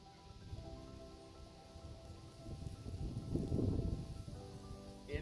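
Rain falls steadily at an outdoor pistol range with wind blowing through, a soft continuous patter and rustle that swells louder for a moment toward the end, with no voices.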